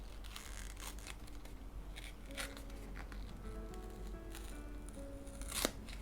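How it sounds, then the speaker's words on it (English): A piece of glossy paper torn by hand, heard as a series of dry ripping and crinkling bursts spread over several seconds, with one sharper rip near the end and no voices. "Okay, it's only a bit of paper. Let's tear it."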